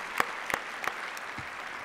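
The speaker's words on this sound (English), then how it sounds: "let's give them a round of applause" A conference audience in a hall claps, the applause sounding as a few sharp separate claps over a steady diffuse patter of hands, fairly near.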